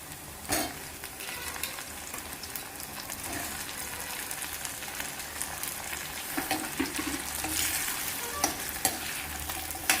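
Cut eggplant pieces for an Andhra-style stuffed eggplant curry fry in a pan with a steady, close sizzle, broken by a few scraping stirs and clinks, with no talking.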